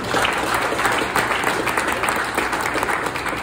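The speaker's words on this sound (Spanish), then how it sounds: "Denle una ofrenda de palmas al Señor." Sustained, dense applause from a congregation at a church wedding ceremony, steady and fairly loud throughout with no break.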